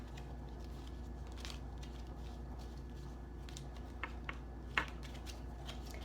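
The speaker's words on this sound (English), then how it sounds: "So we're going to go ahead and use some Uno cards because why not?" Uno cards being shuffled, soft papery patter and light flicks over a low steady room hum, with a few sharper card snaps near the end and no talking.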